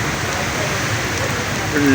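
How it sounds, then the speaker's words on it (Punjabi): Dense, loud rain roaring steadily close by in a village, a broad hiss of heavy downpour with strong gusty wind rumbling underneath. "ਬਾਰਿਸ਼ ਬੜੀ ਜ਼ੋਰ ਸ਼ੋਰ ਦੀ ਹੁੰਦੀ ਪਈ ਹੈ। ਤੁਸੀਂ ਵੇਖ ਰਹੇ ਨੇ ਤੇਜ਼ ਹਵਾ ਦੇ ਨਾਲ।"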